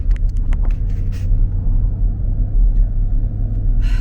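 Steady low rumble of road and engine noise from inside a moving car, constant and fairly loud, with a few faint clicks and rattles in the cabin.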